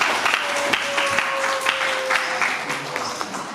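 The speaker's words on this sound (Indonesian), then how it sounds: "Tepuk tangan." A classroom of students claps together, a brief busy patter of hands with speech and a tonal hum in the room beneath.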